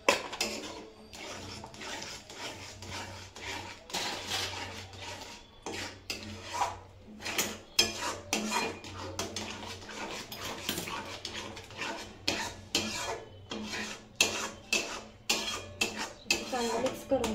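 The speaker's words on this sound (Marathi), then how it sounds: "चांगलं मिक्स करून घ्यायचं." A spoon stirs and mixes a thapeev vadi mixture with salt and coriander in a pan, giving repeated scraping and clinking strokes against the metal, close and fairly steady throughout.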